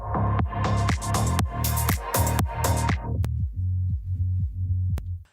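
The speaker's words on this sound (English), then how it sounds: "So then that sequence sounds like this." Throbbing electronic music sequence that a low-pass filter sweeps down toward 150 Hz as it fades, leaving loud, muffled bass pulses repeating alone before it cuts off.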